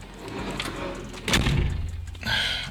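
A door is pushed shut with a soft thud around the middle, followed by a brief scrape or latch sound, heard close in a quiet indoor space with no talking.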